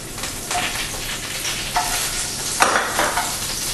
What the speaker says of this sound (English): And the first thing I'll place into the pan is butter.